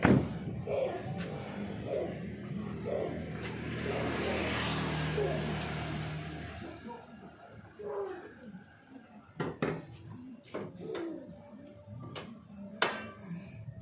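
A Nissan Grand Livina MPV with an automatic transmission idles with a steady low engine hum, joined by clicks and handling noises near the bay, with voices heard intermittently.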